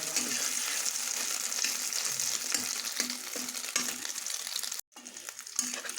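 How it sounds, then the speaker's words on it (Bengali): Egg omelette with onion and green chili frying in oil, a steady close crackling sizzle that runs on with one brief break near the end. "একটি তেলে আমি ডিম অমলেট করে নেব পেঁয়াজ লঙ্কা দিয়ে।"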